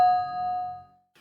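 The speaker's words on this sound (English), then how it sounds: "The bell rang for their final lesson of the day." A single clear electronic bell tone sounds, as a school bell signalling the final lesson of the day, ringing bright and sustained before it fades out over about a second, with a faint separate sound just after.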